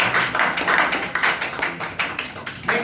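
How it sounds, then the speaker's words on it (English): An audience claps for a participant at a public speaking session, a steady dense patter of many hands lasting throughout, moderately loud with no talk over it. "clap for Neha"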